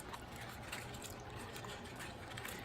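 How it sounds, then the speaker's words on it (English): Water trickles and splashes steadily, faint and close, as chalk paste is rinsed off a transfer into a basin, with no voices over the sound. "I'm going to simply get as much of the chalk paste off into the water as I can"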